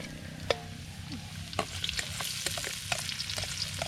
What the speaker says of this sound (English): That mixture of garlic and onion though, it's so good when it's cooking on the oil like that